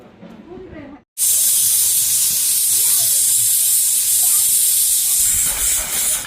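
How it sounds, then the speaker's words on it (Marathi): A pressure cooker used for home-processed turmeric releases steam with a sudden loud, continuous hiss that starts after a brief quiet moment and holds steadily for several seconds, close and dominant, with faint talk at the start. "कुकर लावला आहे आता हे का नाही दीड शिटी काढून घ्यायची"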